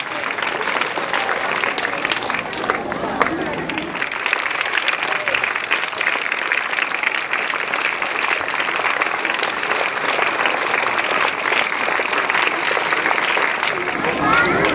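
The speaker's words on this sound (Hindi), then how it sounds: "ये तालियां दूर तक जाएं" At a school foundation day ceremony, an audience breaks into loud, sustained applause, dense and close, continuing without pause with crowd noise mixed in.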